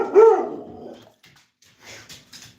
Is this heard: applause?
no